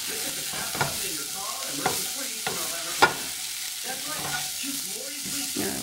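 Rice and tofu stir fry sizzling steadily in a pan, a close, continuous hiss broken by a few soft scrapes and knocks as it is flipped over.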